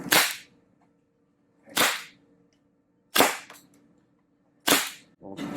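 A MilSig M79 foam dart blaster, a high-velocity sniper-style launcher, fires four sharp, loud pops spaced roughly a second and a half apart, each a crisp burst with a short decaying tail over a faint steady hum.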